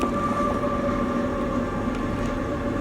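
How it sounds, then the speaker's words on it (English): A train passing in New Mexico, a continuous loud rumble with steady tonal hum throughout, no speech over it. "Excuse that noise if you hear it. That's the train."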